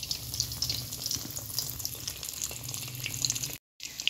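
Egg and potato cutlets, coated and frying in oil, give a steady, soft sizzle and crackle that carries on evenly. There is a brief gap near the end.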